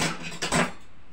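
Chicken ghugni with peas being stirred in a pot, giving a couple of short scraping clatters of a spoon against the metal at close range, with no talk.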